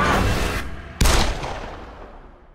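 Gunfire in The Evil Within: a sustained burst fades out, then a single sharp, loud shot cracks and rings into a decaying echo, close and without talk.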